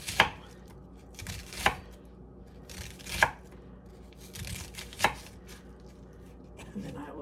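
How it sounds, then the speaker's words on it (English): Tomatoes being chopped on a cutting board for homemade pico de gallo, with about five sharp, evenly spaced knife strikes landing close and clear, each followed by quieter scraping. "I will just chop it a little bit more"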